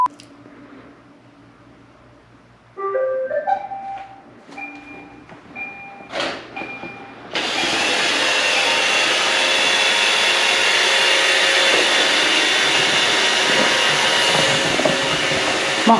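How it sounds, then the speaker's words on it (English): A robot floor vacuum cleaner starts up after a few quiet seconds of scattered clicks and knocks, then runs with a steady, loud whirring hum to the end. "My automatic floor vacuumer is here and working. Gonna vacuum the floor up."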